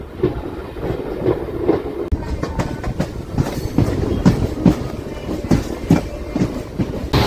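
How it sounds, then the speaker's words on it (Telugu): A train arriving at Kurichedu railway station, heard from on board as a steady loud rumble with rhythmic clickety-clack of wheels over rail joints throughout. "పన్నెండు నిమిషాలు ఆలస్యంగా వచ్చామండి కురిచేడు రైల్వే స్టేషన్కి"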